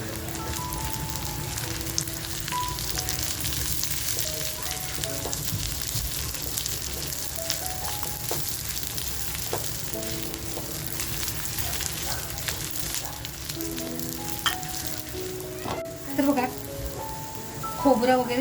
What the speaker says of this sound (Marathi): आणि खोबरं हे जे घेतलंय ना हे आता छान असा परतवून घ्यायचं आहे आपल्याला